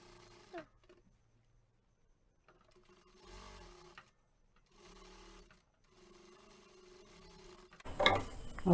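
Sewing machine stitching a blouse, running in several short bursts separated by pauses, fairly quiet and close, with a louder clatter at the end.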